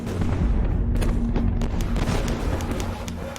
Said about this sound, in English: Napoleon gathers every available gun to blast the Austrians, who fall back under a withering barrage